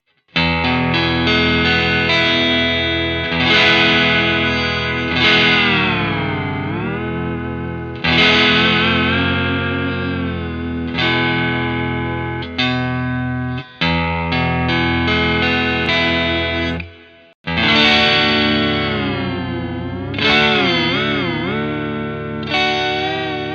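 Heavily effected chords from an Eart superstrat electric guitar ring out with chorus and distortion, the pitch bending and wobbling as the tremolo bar is pushed, with short pauses between phrases.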